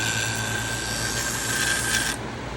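Fiskars pinking shears ground against a Twice As Sharp sharpening wheel give a steady, close rasping rub with a thin high whine, then the contact eases off near the end.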